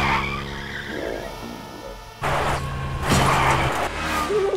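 A vehicle in the video game Stray peels away at full throttle, tires squealing and skidding as the engine roars up, loud and close, with a sharp surge midway and continuing revving after.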